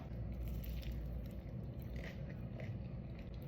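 Quiet, close-up chewing of breaded fried chicken with slightly softened breading and faint crunchy bits, steady mouth sounds and no talking.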